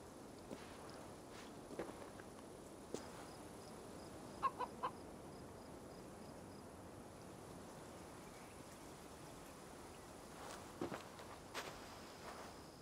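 A chicken clucking in Assassin's Creed Valhalla, faint scattered clucks and a short burst of calls over a quiet game ambience, with soft footsteps here and there.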